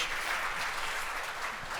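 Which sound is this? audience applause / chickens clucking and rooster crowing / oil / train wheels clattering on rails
audience applause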